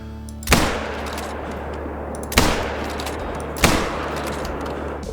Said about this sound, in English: We're going to shoot the 2 stags because they pay the best